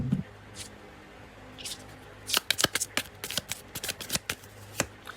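Tarot cards shuffled by hand, a quick run of crisp riffling flicks and slaps growing busier midway, close and fairly loud in a quiet room.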